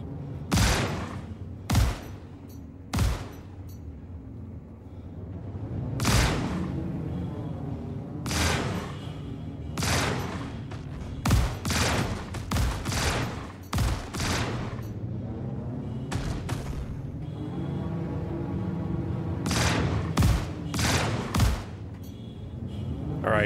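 Ship weapons firing in the space game Star Citizen, loud, close bursts of blasts coming in irregular clusters, some quick doubles and rapid strings, over a steady engine rumble with occasional low rolling booms.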